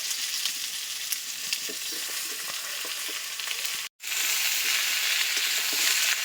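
Taro and spinach stir-fried in a frying pan for a fish curry, giving a steady broadband sizzle with scattered scraping stirs, close and continuous, broken by one brief silent gap midway.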